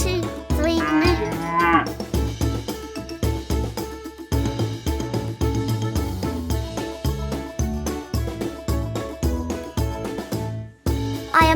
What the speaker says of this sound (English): I say, let's all practice our best cow moves together. Ready? 1, 2, 3, moo.